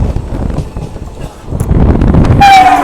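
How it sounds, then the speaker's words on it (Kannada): A passenger train bound from Mysuru Junction to KSR Bengaluru rumbles past on a crossing with loud wind and rail noise, then a sharp horn blast sounds near the end. "ಮೈಸೂರು ಜಂಕ್ಷನ್ ಟು KSR ಬೆಂಗಳೂರಿಗೆ ಹೋಗೋ ಟ್ರೈನ್ನ ಕ್ರಾಸ್ ಮಾಡ್ತಾ ಇದ್ದೀವಿ"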